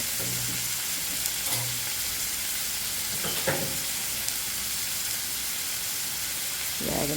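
Onions for a taro root curry fry in a pan with a steady, even sizzle, broken by a few soft stirring scrapes, close and continuous with no voices.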